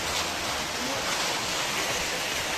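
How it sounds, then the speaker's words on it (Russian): A tall waterfall at Lake Ritsa in Abkhazia gives a steady, even rushing roar of falling water, continuous and unbroken, with no voices. "Высокий водопад, красивый."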